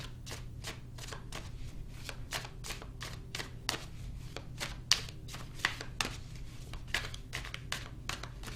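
Tarot cards being shuffled close up, a rapid series of crisp papery riffles and taps in steady irregular bursts, quiet and alone.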